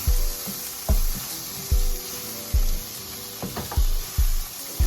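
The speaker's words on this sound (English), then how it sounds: "Give it a stir" Garlic sizzles steadily as it is stirred in a hot pan while cooking for BBQ chicken wings, with a few soft spoon scrapes and bumps against the pan rising over the constant frying hiss.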